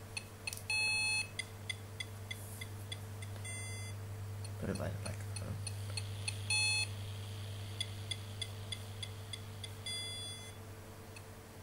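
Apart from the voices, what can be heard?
beeping noises from a small in-ear device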